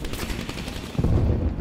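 Rapid bursts of gunfire in Call of Duty Black Ops Cold War, sharp repeated shots that build into a heavier, louder volley toward the end, close and dense.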